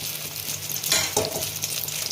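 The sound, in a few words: eggplant pieces frying in oil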